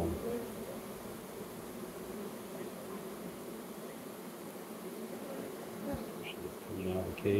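Honey bees hum in a dense, continuous buzz close by as a virgin queen emerges from her cage, with a slight swell and a few small knocks near the end.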